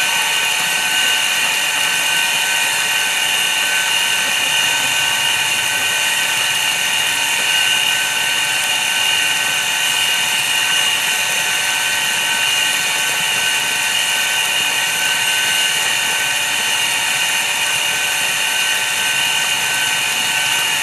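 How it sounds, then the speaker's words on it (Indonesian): A jet pump feeding a well water filter runs continuously with a steady, high-pitched whine and dense mechanical hum, loud and unchanging throughout with no voices. "Ini teman-teman jet pump yang saya pakai"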